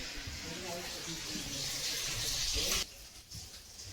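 Water runs from a tap in a steady hiss that cuts off abruptly near the end, with a short gush after. It's set in a home kitchen during cooking, with talk nearby.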